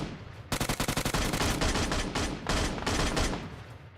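Rapid bursts of gunfire and explosive bangs from a PUBG Mobile match, loud and close, with fast stuttering automatic fire followed by heavier rolling blasts.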